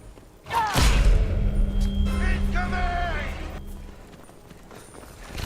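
A herd of horses gallops away in the modded video game Skyrim, a loud rumbling burst of hoofbeats that swells suddenly and then slowly fades, with a voice talking over it.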